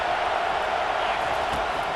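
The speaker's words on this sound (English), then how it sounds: "this crowd trying to help keep them there" Stadium crowd roar in the College Football 25 video game, a steady, loud wash of massed voices cheering throughout without a break.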